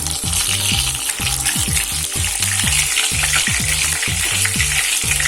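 Stuffed brinjals frying in oil in a pan, a loud, steady sizzle that stays close and constant throughout, with a low rhythmic bubbling beneath and no voices.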